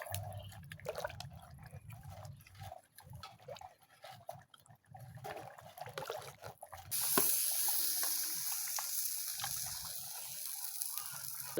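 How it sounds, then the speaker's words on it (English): Water poured into a cooking pot of Ghanaian groundnut soup after the oil has surfaced, a steady splashing gush that swells louder partway through, heard alone at close range. "So I'm going to add some water at this point."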